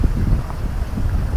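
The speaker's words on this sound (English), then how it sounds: "It's a really windy day." Strong wind buffets the microphone on a coastal ridge above Lake Macquarie, a loud continuous low rumble with gusty swells and no other sounds.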